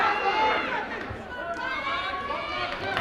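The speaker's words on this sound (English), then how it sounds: "Big pop of the crowd there." Crowd noise in a gym during a high school wrestling match, with a rising burst of cheers and chatter from a dense crowd. Commentary runs over the top.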